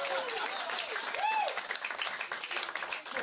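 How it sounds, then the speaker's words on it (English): A studio audience applauds in a sustained, dense wash of clapping that lasts the whole moment, with a voice speaking over it. "Let's give Alice a big round of applause."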